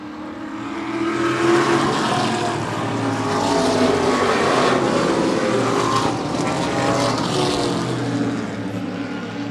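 Pack of race cars running together on a track, engines roaring loudly as they sweep past in a continuous swell that rises and holds, with no talk over the noise.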